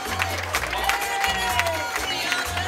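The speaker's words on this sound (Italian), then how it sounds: "applauso ancora ai ragazzi del Funny Center di Zoppola" Audience applause and cheering for dancers at a bachatango performance at San Giorgio della Richinvelda, a dense, steady wash of clapping from a crowd, with a low musical rumble underneath.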